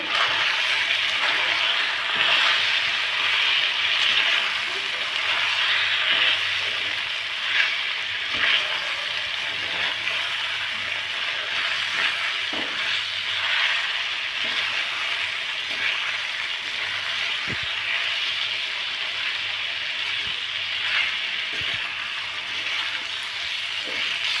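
Ginger paste and cumin powder sauté in a hot pan with a steady, even sizzle and frying crackle that runs unbroken at a moderate level, with occasional faint stirring clicks and no talking.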